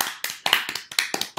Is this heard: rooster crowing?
no